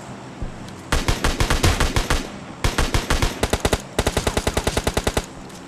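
Gunfire in PUBG Mobile Lite gameplay, with rapid automatic bursts of sharp shots in three long volleys after a single early shot, loud and close, with no talking.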